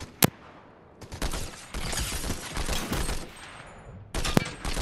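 A Combat Assault Rifle fires in Fortnite, with sharp single shots and then long dense bursts of rapid automatic fire, loud and close, separated by brief pauses.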